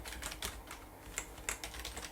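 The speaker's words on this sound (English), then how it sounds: "And then you can obviously go in, type in npm.home.local." Rapid keystrokes on a computer keyboard, close and fairly quiet, in an irregular run of clicks with a few sharper taps, no voices.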